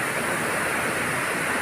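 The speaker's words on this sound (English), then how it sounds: "There's water splashing everywhere." Water splashing and rushing through fountains and cascades in the walled Italian garden of Villa d'Este in Tivoli, fed by mountain water; a dense, steady, close roar of falling water fills the whole stretch without pause.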